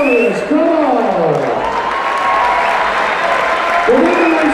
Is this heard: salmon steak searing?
no